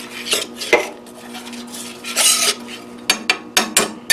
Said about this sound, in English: Spread the butter out here so the bread will toast nicely.